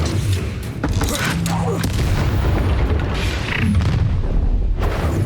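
Descendo slam spell in Hogwarts Legacy on Switch, heavy booming impacts and rumbling crashes amid busy battle noise, loud and sustained with several sharp hits across the clip.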